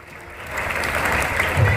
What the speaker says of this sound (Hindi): पूरे उत्साह के साथ तालियां